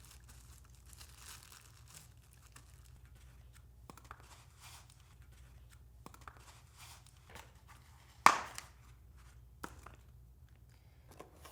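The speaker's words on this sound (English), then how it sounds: "You can take off this little bit of protective packaging." Protective packaging is pulled off a 16 inch Guardian Ethos bike in quiet, close crinkles and rustles, with one sharp, louder tear partway through.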